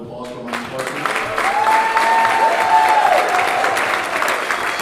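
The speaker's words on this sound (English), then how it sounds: "Let's give a round of applause for Mike Parson." Crowd applause for Missouri Governor Mike Parson at a campaign bus tour stop in St. Charles, a steady wash of clapping that holds for several seconds, with a faint tone gliding underneath.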